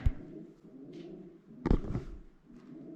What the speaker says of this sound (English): Ah, of course there was pigeons in here.